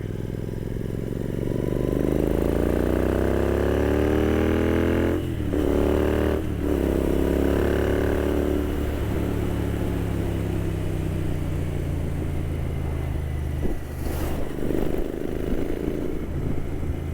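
A Royal Enfield Continental GT motorcycle being ridden on the Snowden Pass road. Its engine drones loud and close throughout with rising and falling revs, brief dips at gear changes and a steady wash of wind.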